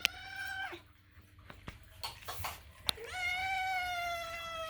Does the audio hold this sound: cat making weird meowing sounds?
yes